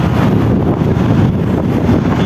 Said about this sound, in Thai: วันนี้อากาศดีด้วย ลมเย็น พัดสบาย